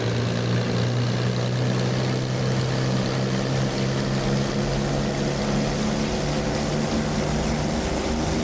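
The propeller engine of a Supermarine Spitfire Mk I in a Microsoft Flight Simulator takeoff gives a loud, steady droning hum that holds constant throughout, with no speech.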